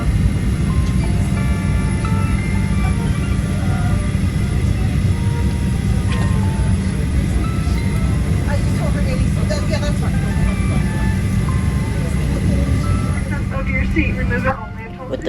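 A Southwest Airlines jet pulls out of the gate at night in Austin before a flight to Chicago. A loud, steady engine and cabin drone holds for about fifteen seconds, then dips briefly near the end.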